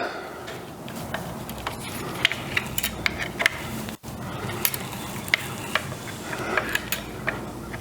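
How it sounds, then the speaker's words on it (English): Clamp on a steering linkage being loosened by hand, close-up metallic clicks, ratcheting and small knocks in an irregular rhythm over a faint background hum. "So I can loosen the clamp"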